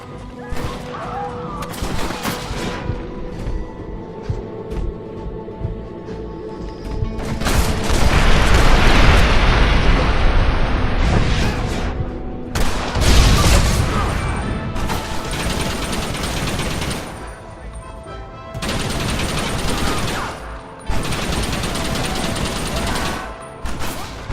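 A Gatling gun firing during a shootout in the video game Red Dead Redemption, loud bursts of rapid fire broken by short gaps, mixed with booms and crashes, voices briefly heard.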